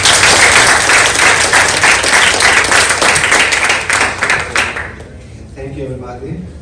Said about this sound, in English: Talk about a big applause to Stathis.